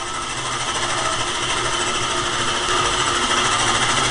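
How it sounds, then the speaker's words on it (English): A golf course reel mower backlaps its reels on the machine, running them in reverse: a steady, loud, rapid mechanical whir with a fine rattling texture and no pauses or voices. "This machine here has actually got a setup on it where you can reverse the reels and backlap the reels on the machine"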